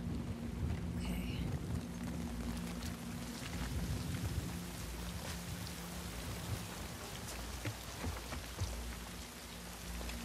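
Steady heavy rain pours down in a rainstorm in the video game The Last of Us Part 2, a continuous dense hiss with low rumbling underneath and a faint voice briefly audible.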